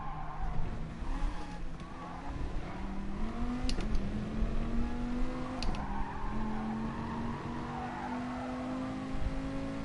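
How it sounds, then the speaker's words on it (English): Car in Gran Turismo Sport racing at Catalunya, its steady engine drone rising in pitch as the rear kicks out and it slides, with brief tyre squeals in the middle; loud and continuous throughout. "The back kicked just a little bit and made the car slide."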